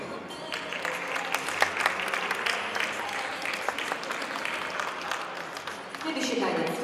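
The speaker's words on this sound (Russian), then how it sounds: "Ваши аплодисменты." Audience applause at a ballroom dance competition final, a steady wash of clapping that fills the whole stretch at an even level, with some voices mixed in.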